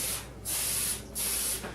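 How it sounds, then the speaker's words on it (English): Cooking spray hisses from an aerosol can into a springform pan for a chocolate peanut butter cheesecake, in two steady bursts of about half a second each, close and clear with a short pause between. "we are going to coat this down with cooking spray to prevent sticking from the final product"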